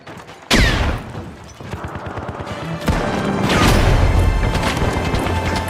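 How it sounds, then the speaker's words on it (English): A frag grenade goes off in THE FINALS combat game: a sharp, loud blast lands, then a rattle of gunfire and crashing debris follows, with a second heavy impact swelling into sustained chaotic noise. "Tossing a frag!"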